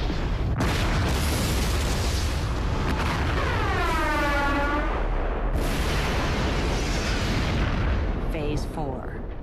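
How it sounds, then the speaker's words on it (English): A massive volcanic explosion from the Santorini eruption, a deep sustained roar and rumble that stays loud and booming throughout, with rolling blasts and no speech over it. "which set off a massive explosion with the force of 40 atomic bombs"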